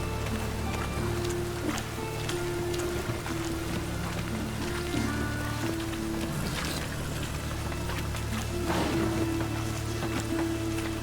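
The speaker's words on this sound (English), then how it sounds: "Must be mad running around in this rain." Steady rain falls in The Witcher 3 Wild Hunt's game world, a continuous even hiss lasting throughout with sustained musical tones underneath and a few brief louder spatters.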